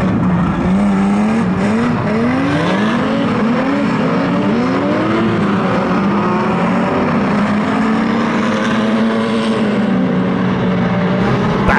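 Ford Granada banger racing cars thunder around the Kings Lynn track in a heat, a dense, loud roar of several engines rising and falling as they rev and pass, with no talk over it.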